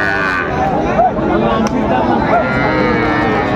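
Young bull calves moo amid a busy crowd at the Aftabganj cattle market, lowing calls rising over constant chatter and babble of many people.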